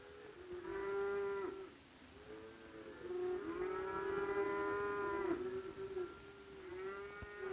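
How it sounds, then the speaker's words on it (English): Dairy cows mooing in a milking barn, brought in from the corrals for milking, several long drawn-out moos one after another, fairly loud and close, with no talk over them. "The milkers bring the cows in from the different corrals to the milking barns."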